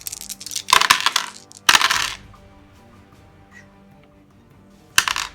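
Dice clatter onto a tabletop during a Deadzone miniatures game: two bright rattling rolls close together, then a quiet pause and a third short clatter at the end, all close and loud with no voices.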